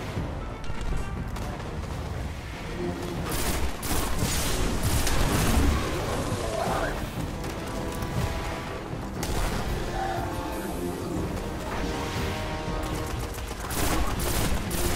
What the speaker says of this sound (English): Wow, I can actually rush in now with a shotgun.